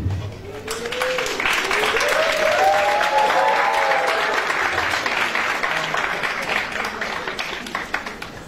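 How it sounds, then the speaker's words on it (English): Loud audience applause at a school regional competition, sustained and even, with faint voices rising over the clapping partway through. "Thank you so much also for the loud round of applause during that last presentation."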